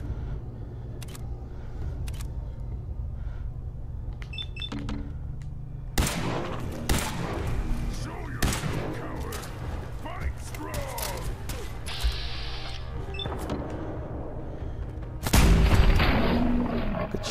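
Gunfire in the video game Fallout 4, with sharp broadband shots bursting out at intervals, including a louder blast near the end, over a steady background hum of game ambience.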